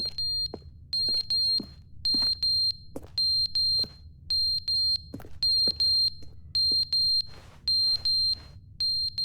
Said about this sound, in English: that's the fire alarm battery